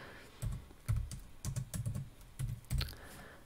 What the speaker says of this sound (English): I'm gonna click T for text box on my keyboard